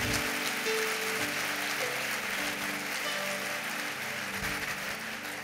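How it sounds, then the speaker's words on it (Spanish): A church congregation applauds loudly and continuously, a dense wash of many hands clapping at once that holds steady throughout without any talk. "Dale un aplauso, vamos"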